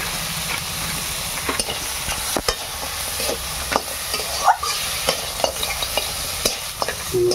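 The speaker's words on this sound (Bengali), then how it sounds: "কষা হচ্ছে কাঁকড়া।" Crab sautéed with spices in a pan in a Bengali village kitchen, a steady close sizzle broken by repeated scraping stirs and clacks of a spoon, no talk.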